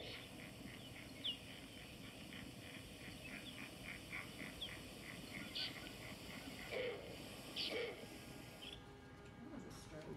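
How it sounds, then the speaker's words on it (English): A snowy owl lets out a few short, harsh, honking barks, faint and spaced apart over a steady hiss of background noise. "This is a snowy owl."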